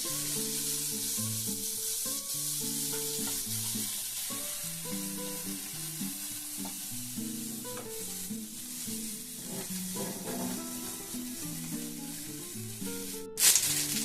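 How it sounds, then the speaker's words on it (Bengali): Onions fry in oil in a pan with a quiet, steady sizzle that runs unbroken under soft melodic background music. "দেখুন পেঁয়াজগুলো ভাজা হয়ে গেছে"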